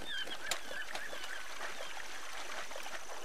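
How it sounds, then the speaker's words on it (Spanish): Faint bird squawks and goose-like honks from Uncharted 2's Borneo chapter, a few scattered calls over a steady trickling water and jungle ambience. "Mira los pájaros."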